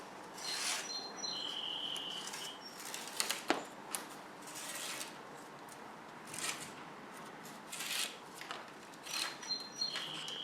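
Old rubber spline is pulled out of a window screen frame in intermittent rasping, scraping strokes up close. Soft chirping birds sound in the background.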